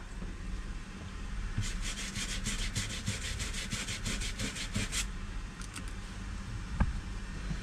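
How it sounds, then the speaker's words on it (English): Marks on the wooden surface of a motor yacht being scrubbed by hand in a steady run of rapid back-and-forth strokes, close up, over constant low background noise. "And what we're going to do now is scrub them out."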